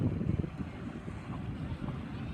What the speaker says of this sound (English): we have a big puff blowing over me right now